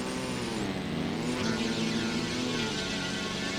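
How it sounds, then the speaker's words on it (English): Simulated quadcopter motors in the RealFlight flight simulator game give a steady, electronic-sounding whine with slight pitch wavering, continuous and fairly quiet throughout. "We got to work on these engine quad noises in real flight"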